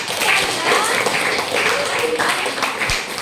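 A class of students gives applause, a steady patter of clapping that fills the whole stretch at moderate loudness, with voices mixed in.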